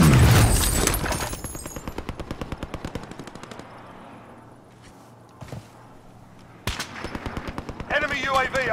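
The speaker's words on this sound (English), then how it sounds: "They're shooting from, down here, yellow marker." Rapid enemy machine-gun fire in a military video game, long rattling bursts of shots, loud at first and then thinning to sparse cracks, with speech-like radio chatter and a sharp blast near the end.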